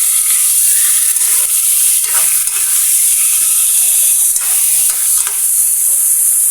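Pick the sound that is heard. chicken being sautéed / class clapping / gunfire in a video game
chicken being sautéed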